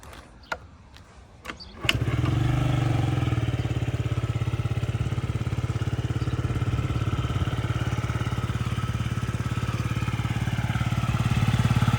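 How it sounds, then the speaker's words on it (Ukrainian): A fuel-injected Yamaha Jog SA36 scooter engine clicks a few times, then starts and settles into a steady, even idle, a close, fast-pulsing putter that holds evenly to the end. "чистенько, тихенько двигун працює, ніяких зауважень по роботі немає"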